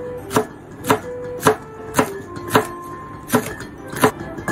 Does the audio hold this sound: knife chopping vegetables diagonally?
yes